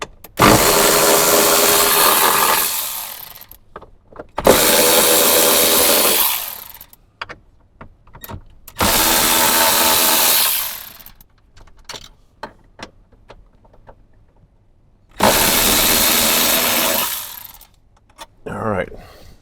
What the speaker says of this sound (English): next we need to remove, there's 4 10 millimeter bolts, 2 on each side